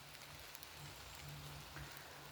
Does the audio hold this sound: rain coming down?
yes